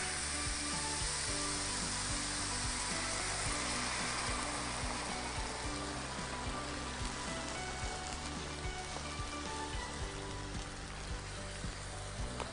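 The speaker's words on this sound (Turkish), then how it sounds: "Etlerim de çok güzel mühürlenmiş." Seared meat sizzles loudly in a pan right after broth is added, a dense, constant frying hiss that fills the whole stretch with no speech.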